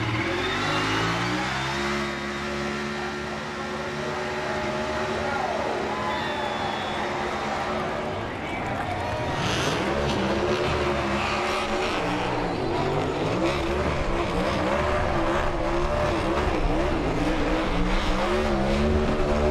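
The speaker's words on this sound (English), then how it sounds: "He is putting the front brake into this thing so he can do a burnout down this front straightaway" A NASCAR Cup car does a burnout down the front straightaway at Pocono, its engine roaring loud and steady as revs rise and fall, with tire squeal woven in and crowd and commentary noise underneath.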